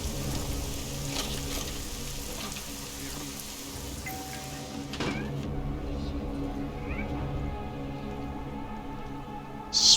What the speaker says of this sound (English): Swear I just heard a cat.